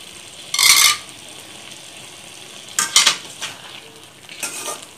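Boiled cowpeas being stirred in a pan for a Tamil-style sundal: three bursts of scraping and clatter with a faint sizzle underneath and short quiet gaps between them. No one speaks.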